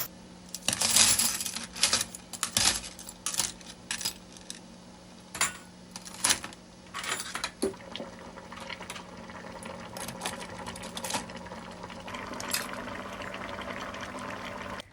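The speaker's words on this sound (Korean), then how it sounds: "이제 수저들을 넣고 10분 정도 소독해주면 완료." Metal spoons clink and rattle as they drop into a pot of boiling water with a little baking soda, sharp close metallic hits bunched early, then scattered taps over bubbling and trickling water.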